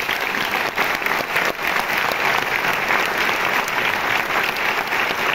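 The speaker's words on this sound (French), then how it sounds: "je vous demande d'applaudir très fort Pascal Thomas" An audience at the Cinémathèque française applauds at a film presentation, sustained dense clapping at an even level throughout.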